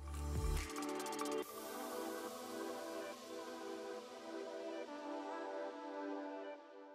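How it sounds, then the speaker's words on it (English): Liquid body wash, made from softened hard soap, pours out of a bottle. A sharp glugging start gives way to a steady, soft, wet squishing stream that slowly fades, close by with no talking. "To soften them like this, pour the body wash out."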